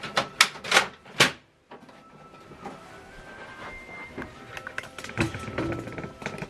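An HP OfficeJet 8014 paper tray being adjusted: a few sharp plastic clicks up front, then a quieter stretch of sliding, scraping and light knocks nearby.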